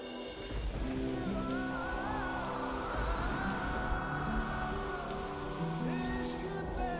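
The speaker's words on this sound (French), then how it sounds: "Il pleut des cordes ici, n'est-ce pas?" Heavy rain pours steadily outside, a soft continuous patter with music playing over it.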